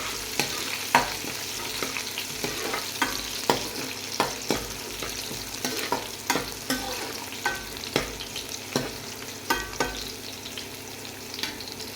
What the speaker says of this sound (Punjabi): ਸਰੋਂ ਦੇ ਤੇਲ ਦਾ ਤੜਕਾ